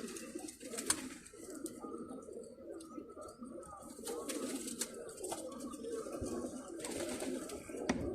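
Pigeons coo softly and repeatedly close by in a loft, the low rounded calls overlapping against faint background noise and an occasional rustle.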